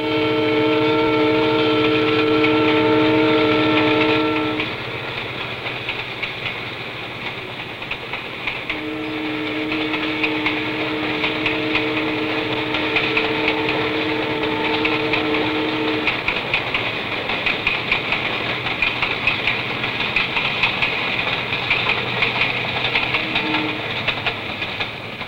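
A freight train rolls steadily along a railway line in the Piedmont region with a continuous loud rumble. A multi-tone train horn sounds at the start and blows again in the middle, and no one speaks.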